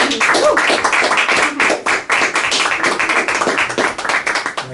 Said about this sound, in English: please give a round of applause for Mr. Karlo Salgado